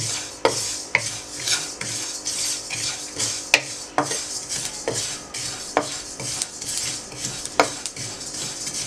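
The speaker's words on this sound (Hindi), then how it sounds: "चम्मच आपने मसलसल चलाते रहना है।" A spoon stirs jaggery candy mixture in a pan without stopping, a close, loud scraping with regular metallic clinks on the pan in a steady rhythm and no talking.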